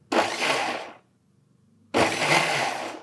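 A mixer grinder whirs loudly twice in two short pulses with a pause between, blending tamarind chutney with curd at close range.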